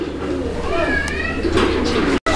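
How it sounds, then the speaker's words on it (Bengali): Fancy pigeons from a sale collection coo close by in a short run of warbling, throaty calls with some background hiss before a brief cutout at the end. "বিভিন্ন কোয়ালিটির কবুতর আছে"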